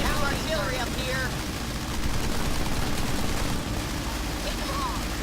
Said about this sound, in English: I'm getting hit with artillery up here.